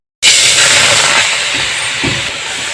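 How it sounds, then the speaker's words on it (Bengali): Red amaranth greens go into a hot wok on the stove and set off an abrupt, loud, steady hiss of steam that stays close and dense, easing slightly as it continues. "এখন আমি কড়াইটি চুলায় বসিয়ে দিয়ে কড়াইয়ের মধ্যে শাকগুলো দিয়ে দিব।"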